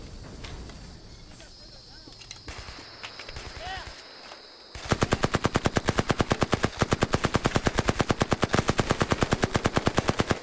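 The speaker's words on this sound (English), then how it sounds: "Shortly after detaining the suspects, a brief firefight ensues." Machine gun fire in a 1966 Vietnam War firefight breaks out after a few seconds of quieter background, then continues as loud, rapid, evenly spaced bursts until the end.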